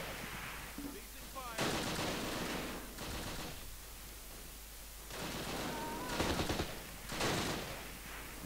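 Gunfire in the wartime strategy game Close Combat, The Longest Day: repeated bursts of rifle and machine-gun fire crackling in separate volleys over a constant background hiss, fairly faint and distant.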